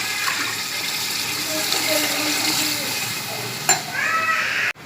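Water is poured into a steel pot for aloo matar pulao, making a steady, close splashing rush that continues with a brief clatter near the end, and someone speaks over it.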